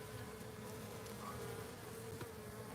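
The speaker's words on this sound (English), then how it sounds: "So look at, there's a bee right there with some pollen." Honeybees buzz steadily at a hive where workers return carrying pollen, a dense continuous drone with occasional nearer passes of individual bees, and no voices.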